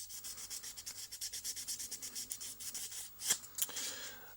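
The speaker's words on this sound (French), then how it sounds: "Enfin si le brillant, si ça ne brille plus, ça veut dire que ça a été bien poncé." Sanding the eye lens of a Spiderman mask before painting, a close, quiet series of quick rhythmic rubbing strokes, with a couple of sharper scrapes near the end.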